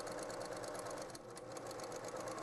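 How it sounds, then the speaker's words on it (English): A home sewing machine stitches a curved seam through fabric with a quarter-inch edge guide, running as a steady, fast mechanical whir close by, with no talk. "as I sew through my arc, I am gonna keep my 1/4 inch seam allowance edge guide here in place"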